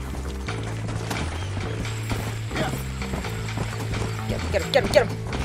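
Horse hooves clip-clopping at a fast gallop in the Red Dead Redemption video game, a rapid rhythmic clatter mixed with game music and mechanical sounds, with brief voices over the top.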